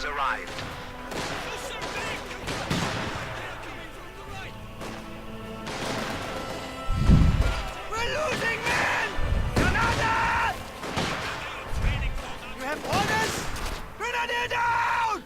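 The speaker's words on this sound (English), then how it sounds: "All of his Grenadier squads have been equipped with Gewehr 43s, relying on the might of the semi-automatic rifle" Semi-automatic Gewehr 43 rifle fire from Grenadier squads in the Company of Heroes 2 game, repeated sharp shots mixed with heavier booms and thuds of battle, under a talking commentator's voice.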